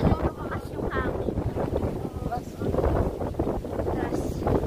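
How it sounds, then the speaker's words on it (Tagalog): Strong cold wind outdoors near the Museum of Islamic Art in Doha buffets the microphone in a continuous, loud, gusting rumble, with people talking over it. "Lalo lumakas yung hangin."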